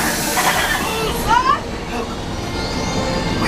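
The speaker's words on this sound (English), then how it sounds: "There is the train." A ride train rumbles loudly in the Star Wars Galaxy's Edge area of Disneyland, with a steady heavy roar, a rising wheel squeal, and voices talking underneath.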